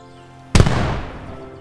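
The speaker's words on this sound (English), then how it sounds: "Cannon, to battle. Open fire." A single cannon shot from artillery in Age of Empires III booms suddenly, sharp and loud, then its rumble decays over about a second.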